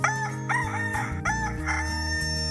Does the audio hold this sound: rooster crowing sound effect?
yes